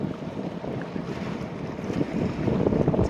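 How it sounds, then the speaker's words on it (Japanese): Waves wash steadily at the Odaiba waterfront in Tokyo, a continuous close surging rush with wind buffeting the microphone and swelling louder toward the end. "結構波あるよ、ほら。"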